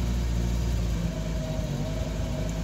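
A voice imitates a petrol car engine idling at low revs: a steady, low, droning rumble held evenly throughout, with no words spoken.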